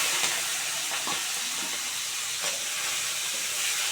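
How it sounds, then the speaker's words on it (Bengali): Salt-and-turmeric-coated prawns fry in hot oil, giving a steady, loud, dense sizzle that holds even throughout with a few faint crackles and no voices. "এই যে চিংড়ি মাছগুলো দিয়ে দিচ্ছি নুন হলুদ মাখানো"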